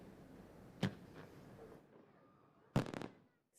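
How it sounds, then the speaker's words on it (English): Fireworks bursting over Houston for a New Year's celebration, two sharp distant bangs a couple of seconds apart, the second followed by a brief crackling tail over a faint background. "this Wednesday will see fireworks light up the sky over Houston"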